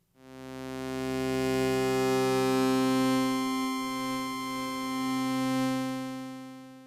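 Several Drift synthesizer unison layers in Ableton enter in staggered succession, building a dense, sustained harmonic chord that swells and gently wavers for nearly seven seconds, alone and steady before fading at the end.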